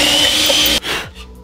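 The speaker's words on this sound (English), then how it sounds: "I've got this hole saw right here that's 5 inches across" A power drill spins a 5-inch hole saw into a workpiece, a loud, close grinding whine that stops abruptly partway through and leaves a short, quieter tail.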